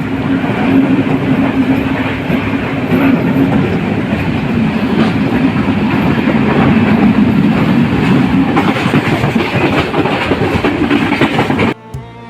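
The Banalata Express runs on rails in rainy weather, a loud, steady rumble with a rhythmic clatter of wheels over track joints, continuing for several seconds before cutting off abruptly near the end.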